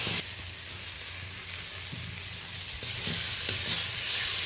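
Onions, green chillies and tomatoes are stir-fried with a pinch of salt in a pan, giving a steady close sizzle and hiss with occasional scraping stirs and no talking.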